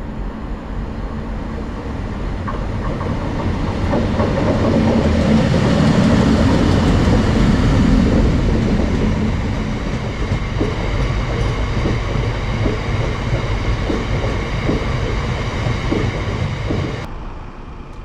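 A train runs along an active railway line near Nottingham, a loud, sustained rumble with rhythmic wheel clatter that swells and stays steady for most of the passage before cutting off abruptly at the end.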